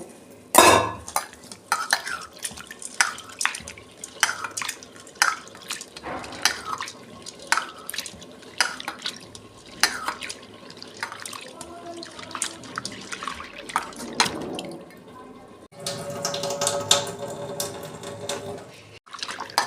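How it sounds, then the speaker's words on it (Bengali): Lentils being washed in a vessel under a tap, with repeated sloshing, swishing and clinks of the pot over running water, close and steady, then a longer stretch of rushing tap water near the end. "ডালগুলো এবার আমি ধুয়ে নেব। এই যে ডালগুলো আমি 2-3 বার ধুয়ে নেব।"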